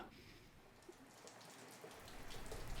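Steady rain hisses and patters continuously in relentless Irish wind and rain, a dense wash of drops that swells slightly louder toward the end, with no voices.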